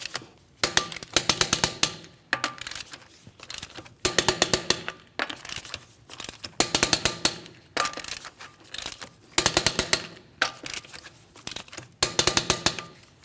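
Wheel lug nuts on a 2016-2025 Chevrolet Malibu are torqued to 100 foot-pounds in a crisscross pattern, heard as repeated close bursts of metallic ratcheting clicks in short groups separated by quiet pauses.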